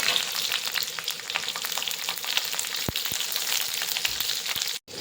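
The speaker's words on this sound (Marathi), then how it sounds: "आता त्याच कढईमध्ये आपण शिमला मिरची थोडीशी फ्राय करून घेणार आहोत" Capsicum pieces frying in a kadai after paneer, a dense, close crackling sizzle with scattered pops and stirring taps running steadily throughout, with no talk.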